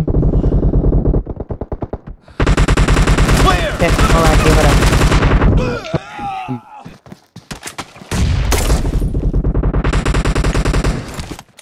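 Rapid automatic gunfire in the BGMI mobile shooter game, long loud bursts of dense shots broken by short gaps and reload-like clatter, continuing in a further sustained burst.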